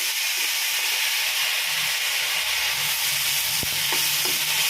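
Garlic, onion and banana flower sauté in a pan with a dense, steady frying hiss up close, broken by a few faint clinks of a utensil toward the end.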